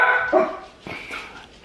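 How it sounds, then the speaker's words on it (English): Several dogs bark and yip close by in a short excited burst, with a whimpering, high-pitched cry at the start, a couple of sharp barks after, and a steady indoor background; no talk. "the dogs just started barking like crazy"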